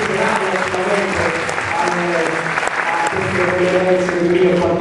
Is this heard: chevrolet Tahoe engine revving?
no